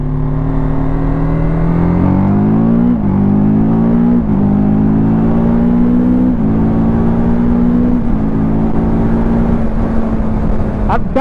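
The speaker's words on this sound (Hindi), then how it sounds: "अभी मैं आपको क्विक शूटर दिखाता हूँ, सर क्या ज़बरदस्त परफॉर्म करता है" A TVS Apache 310 motorcycle engine revs hard and loud through a quickshifter demo, its pitch climbing and then dropping several times in quick, stepped gear changes, with wind rushing throughout.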